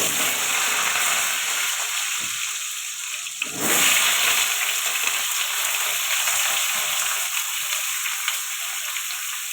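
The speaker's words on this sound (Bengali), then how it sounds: "ফুলকপিটা ভেজে নেওয়ার জন্য কড়াই তেল দিয়ে দিয়েছি। এবার আলুটা দিয়ে দিলাম ভাজার জন্য।" Potato pieces frying in hot oil in a kadai (wok), a steady bright sizzle that flares up loudly for a moment partway through and then settles back into a continuous crackle.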